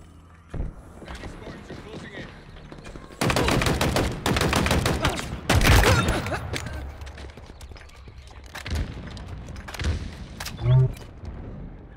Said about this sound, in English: They're shooting each other now